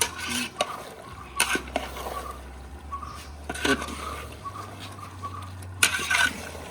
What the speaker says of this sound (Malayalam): ചിക്കനെ മസാല കൂടി നമുക്കൊന്ന് ഇളക്കി കൊടുക്കാം